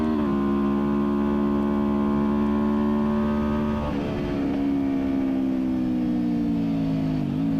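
A sport motorcycle, a Ninja 400 or S1000RR, accelerates hard on a race track, its engine a loud, sustained tonal drone with stepped pitch shifts and a brief dip midway.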